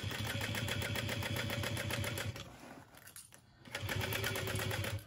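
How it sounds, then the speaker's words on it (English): Domestic sewing machine stitching around a handbag seam, a close, fast, even mechanical chatter that slows and dips briefly in the middle before resuming at full speed. "I'm just sewing around the bag."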